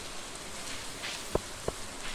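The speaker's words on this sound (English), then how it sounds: "Always happy to see rain." Rain in the Stardew Valley farming game, a steady soft hiss of falling drops with two brief louder taps near the end, alone and without voices.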